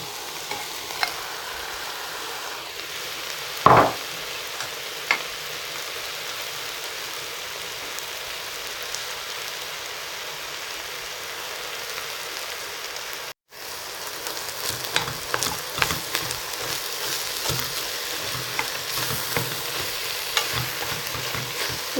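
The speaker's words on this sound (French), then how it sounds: "on va tout de suite mettre les épinards qu'on va laisser fondre tranquillement" Spinach wilts with ground meat in a hot pan for a Lebanese dish, making a steady, moderate sizzle with occasional stirring taps, a brief break partway, then busier crackling afterward.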